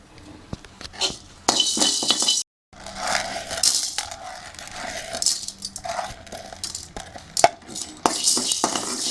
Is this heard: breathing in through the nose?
no